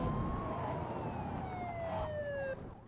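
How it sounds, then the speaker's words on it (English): A police siren wails with a long falling tone over a rumbling background, moderately faint, as if a passing emergency vehicle is some distance away. "I love the police sirens."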